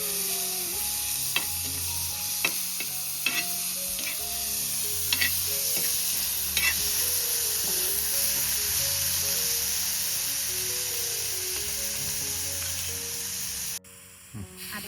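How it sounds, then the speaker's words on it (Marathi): Tomato and onion sautéing in a pan on a wood-fired stove, giving a continuous bright sizzle with occasional spatula scrapes and taps, close and steady throughout, no speech. "आता हे चांगलं परतून घ्यायचं."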